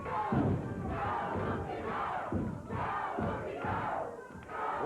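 Loud, continuous crowd roar and cheering at a 1995 USWA televised wrestling event, with rising shouts and a few dull thuds from the ring underneath, sustained throughout without a break.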